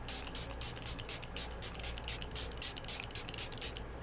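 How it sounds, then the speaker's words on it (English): Rapid bursts of fine hissing extra-hold makeup setting spray repeat in quick pumps about six inches from the face, close and steady, with no talking. "And I just spray that on"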